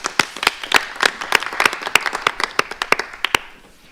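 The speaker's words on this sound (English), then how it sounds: "you guys are going to get the round of applause" Scattered applause from a small group at a city council meeting, distinct individual claps in an uneven rhythm that thin out and fade after a few seconds, close by with no talking.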